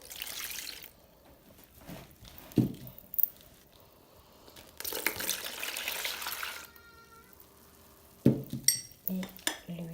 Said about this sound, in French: dans une bol, on va tout mélanger nos ingrédients